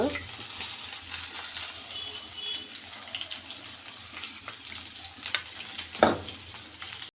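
Ginger and asafoetida frying in a pan for rava pongal, a steady broadband sizzle that holds evenly throughout, with a brief louder clatter near the end.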